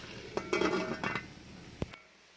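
A metal cooking pot of fried rice being checked, with a few sharp clinks and clanks of the lid and utensil, then quiet.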